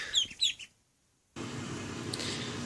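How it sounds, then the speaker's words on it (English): Ducklings give a few high, close peeping chirps, then fall silent before a steady broadband hiss of background noise takes over. "So that was my ducks."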